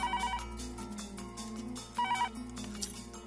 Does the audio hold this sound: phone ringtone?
yes